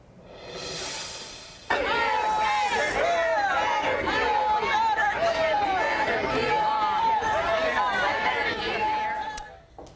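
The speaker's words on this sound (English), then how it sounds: "Cheering at a different stadium here." Football fans cheer and chatter as a crowd outside a Commanders stadium, a dense, lively hubbub of overlapping voices and shouts that swells suddenly after a quieter opening and stays loud throughout.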